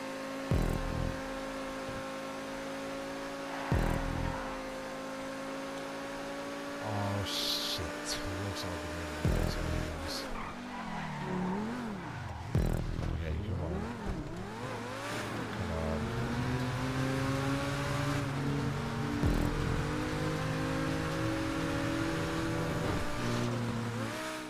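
A T20 supercar in GTA 5 drives with a steady engine drone that swells into revving and shifting pitch midway, then settles into a loud, continuous hum, with a few brief clicks along the way.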